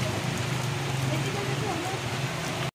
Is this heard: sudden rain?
yes